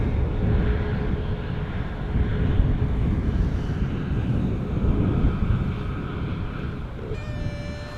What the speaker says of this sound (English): This is EasyJet flight 27937. Going to Copenhagen